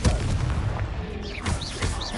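Confringo spells cast in the Hogwarts Legacy video game, fiery blasts booming and crackling in quick succession with whooshing swirls, loud and continuous.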